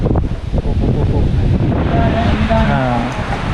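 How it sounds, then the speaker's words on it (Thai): Strong wind roars and buffets the microphone in a continuous rushing blast, with a voice briefly heard underneath. "ลมแรงมากเลยครับ"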